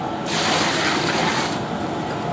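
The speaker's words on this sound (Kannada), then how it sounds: "1 ಬಕೆಟ್ ನೀರು ಹಾಕಿದ್ರು" Heavy water poured from a bucket into a biryani pot gushes in a steady, loud rush for over a second, then tapers to a lower splashing that continues to the end.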